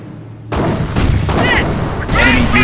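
Rifle and machine-gun fire rattles through a World War II battle in Company of Heroes, a dense, loud, continuous barrage with shouted orders over it.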